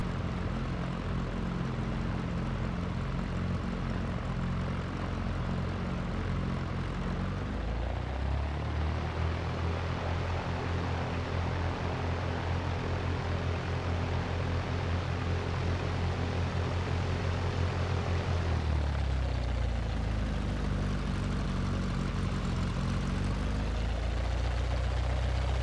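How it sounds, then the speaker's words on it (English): Small single-engine propeller aircraft taking off from a runway during a training circuit, engine steady then rising to a loud full-power roar through the takeoff roll, heard close from inside, with a change in pitch near the end. "so let's go and take off"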